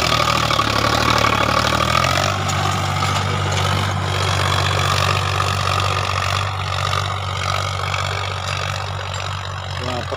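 A Sonalika DI 50 diesel tractor engine runs steadily nearby during a village tractor trial, a loud low throbbing idle that shifts pitch slightly early on and then holds constant.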